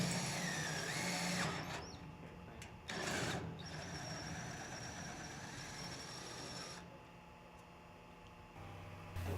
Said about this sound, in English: Drill the rear part of the bracket with a right angle drill.